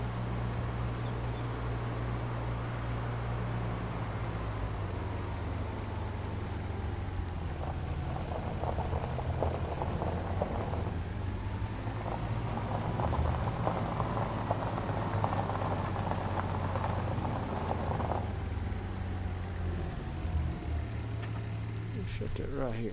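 Rain in Farming Simulator 25, a steady soft patter with some hiss over a low engine-like hum, continuing throughout at moderate level.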